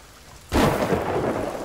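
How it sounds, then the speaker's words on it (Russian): Thunder and a lightning strike in a video game: a sudden loud crack after a moment of quiet, rolling straight into a heavy rumble layered with rain. "Тебя молния ударила."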